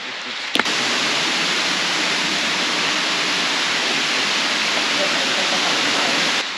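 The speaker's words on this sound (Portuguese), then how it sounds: "É uma cascata pequena, mas é bem bonita." A small waterfall at Parque das 8 Cachoeiras sends up a constant broad rush of falling water, near and steady, after a short click at the start.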